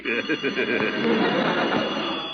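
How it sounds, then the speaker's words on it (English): A telephone rings as a 1940s radio comedy sound effect, a rapid electric bell trill repeating briefly with a voice talking over it. "Phone. I'll answer it."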